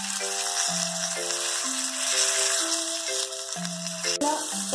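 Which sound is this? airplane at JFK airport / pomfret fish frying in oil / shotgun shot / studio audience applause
pomfret fish frying in oil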